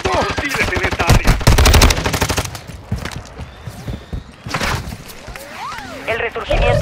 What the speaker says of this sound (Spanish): ¡Me están disparando por aquí!